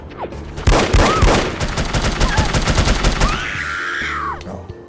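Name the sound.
gunfire in the video game The Operative: No One Lives Forever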